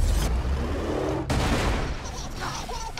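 Dense turret gunfire in the video game Borderlands The Pre-Sequel, a loud continuous barrage of shots with a sharp cut near the middle, then more bursts over the top of in-game explosions and faint effects.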